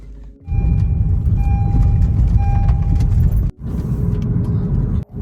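Car driving across a farm in Canada, a steady close engine rumble that runs continuously and drops out briefly twice near the end.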